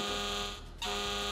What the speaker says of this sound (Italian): Doppio errore per Jose, suona l'allarme e punta il dito